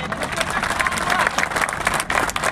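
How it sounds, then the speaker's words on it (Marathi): A crowd at a protest claps loudly and steadily, with the applause mixed with some murmuring voices and a short dip before it picks up again. "एकदा जोरदार टाळ्या."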